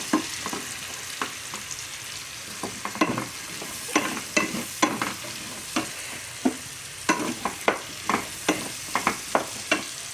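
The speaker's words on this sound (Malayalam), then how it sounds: "ഈ സബോള ഇനി നമുക്കൊന്ന് ചെറുതായി" Sliced onions sauté in a pan for a chicken curry with a soft continuous sizzle, punctuated by frequent sharp scraping taps as a spoon stirs them against the pan.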